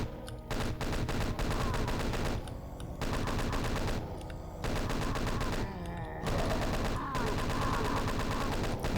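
Rapid chaingun fire from Doom 2 roars in dense, sustained bursts with brief gaps, loud and close, with continuous game action and no speech.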